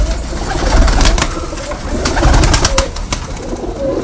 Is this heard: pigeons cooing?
yes